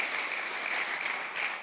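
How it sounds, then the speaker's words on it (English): An audience claps steadily for a brief moment, a dense wash of applause at moderate volume with no voices over it. "So please give them both a big round of applause."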